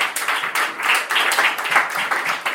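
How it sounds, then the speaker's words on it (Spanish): A church congregation claps and applauds together, a dense, even patter of many hands at close range for a few seconds with no talking. "Dale un aplauso al Señor."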